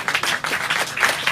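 Church congregation clapping in unison during a sermon, brisk rhythmic claps across a short burst, fairly close and without talking.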